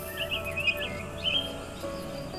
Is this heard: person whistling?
no